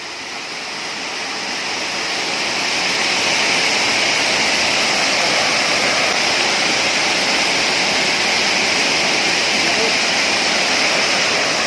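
A waterfall at Jidanao Falls in Jiabong, Samar roars as a dense, continuous rush of falling water, loud and close, swelling over the first few seconds and then holding steady.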